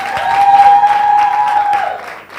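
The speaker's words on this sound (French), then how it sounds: "Est-ce qu'on peut applaudir pour les champions de cette édition?" A crowd applauds loudly and steadily, with a sustained high feedback-like whine ringing over the clapping before it fades.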